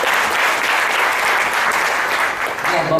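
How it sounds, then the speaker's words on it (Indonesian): A seminar audience delivers sustained, enthusiastic applause, a dense wash of many hands clapping at once, loud and unbroken for the full length. "Tepuk tangan paling meriah untuk kita semua."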